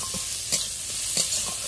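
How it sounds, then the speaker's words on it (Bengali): Dried chillies, nigella seeds, garlic and onion fry in oil, a dense continuous sizzle with a few scraping stirs of a spoon in the pan, nearby and without talk. "তেলে দিয়ে দিচ্ছি শুকনো লঙ্কা আর কালো জিরে, তার সাথে কাঁচা লঙ্কাও দিয়ে দিচ্ছি"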